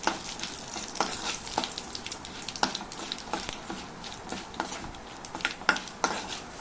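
Curry leaves and spices sizzle in hot oil for a tempering poured into coconut chutney, a steady crackling fry with scattered spoon and pan clinks, no talk.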